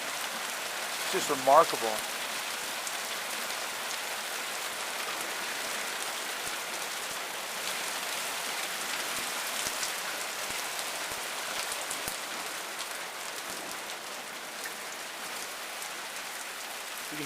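Heavy rain falling steadily in New Mexico, a dense continuous hiss of drops on surfaces that swells in intensity, with a voice briefly speaking over it near the start.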